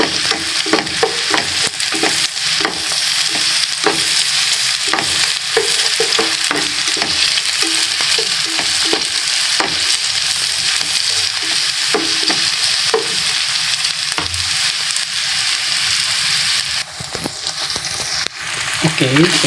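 Garlic and onion sauté loudly in a pan for pork igado, a dense continuous sizzle broken by repeated stirring scrapes throughout.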